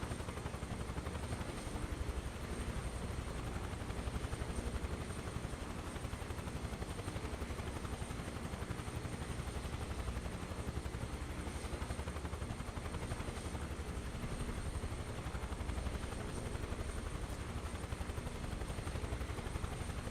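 Free Huey helicopter flying low in Microsoft Flight Simulator 2024 on PS5 Pro, a dense continuous rotor and turbine roar that stays loud and steady throughout, with no talking.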